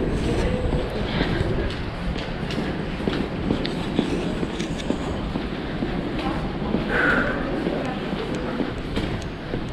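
Rumbling metro train noise in a Montreal station, with rattling clatter and a hum of voices and footsteps around.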